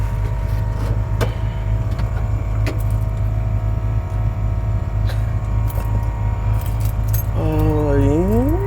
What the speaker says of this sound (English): yeah, keys.